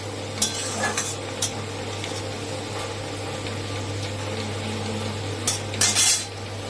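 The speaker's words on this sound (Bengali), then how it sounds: "আর একটু ভাজবো দেখো বন্ধুরা ভাজা হয়ে গেছে লাল লাল হয়ে গেছে পেঁয়াজগুলো" Onions fry in a pan for an egg curry, with a steady sizzle under repeated scraping and clinks of a utensil stirring against the pan, close and fairly loud, with a constant low hum beneath.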